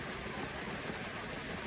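Steady, dense rain pours down as an unbroken broadband hiss, with no pauses and no voices.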